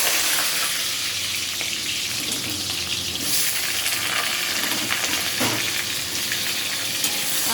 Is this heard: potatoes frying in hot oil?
yes